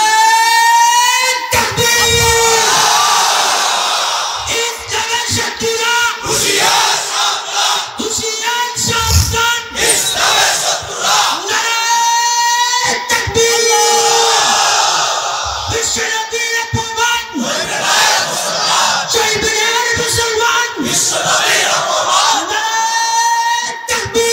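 A large crowd answers a slogan with a takbir chant at a religious sermon gathering, voices surging together in loud repeated bursts that swell and fade in waves.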